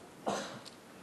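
A man giving a seminar lecture coughs once sharply and then clears his throat, a short close burst followed by a softer rasp against a quiet room.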